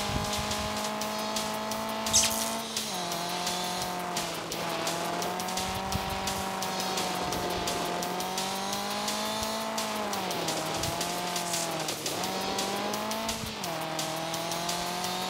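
Rally car drifting in the Rally Fury racing game, a steady engine drone with rising and falling pitch as it revs through slides, tire squeal woven in, continuous and loud with no pauses.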